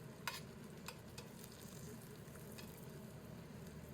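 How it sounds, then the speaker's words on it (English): Fillet steaks fry in a pan of hot butter and garlic, giving a soft, steady sizzle close by but faint, with a few small sharp pops and crackles near the start. "I'm going to go ahead and put my steaks back in"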